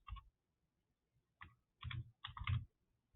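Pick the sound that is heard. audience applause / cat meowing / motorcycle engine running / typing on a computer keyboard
typing on a computer keyboard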